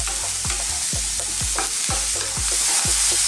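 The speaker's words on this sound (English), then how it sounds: "Let's pan fry this for about 2 to 3 minutes, again on this high heat." Lamb and potato pieces fry over high heat in a pan with onions and garlic for a rosemary stew, a steady loud sizzle broken by regular rhythmic scrapes of a utensil stirring the pan about twice a second.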